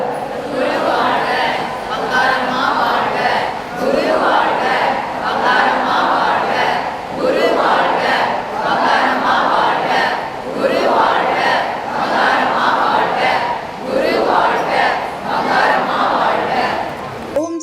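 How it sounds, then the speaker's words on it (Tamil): A large crowd at a Tamil devotional worship gathering chants loudly in unison, repeating a rhythmic phrase several times in rising and falling waves. "பங்காரம்மா நான் இருக்கிறேன்னு சொல்கிற அந்த அம்மாவுக்கு அஞ்சு முறை என்ன சொல்லணும் சத்தமா சொல்லுங்க"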